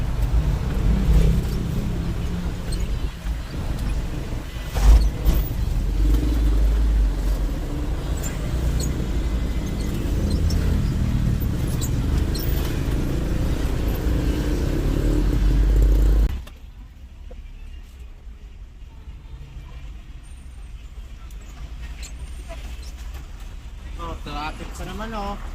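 Road traffic of passing cars and motorcycles, some riders without helmets, a steady rumble of engines under people talking that drops abruptly to a quieter hum partway through.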